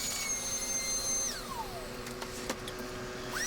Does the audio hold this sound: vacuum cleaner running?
yes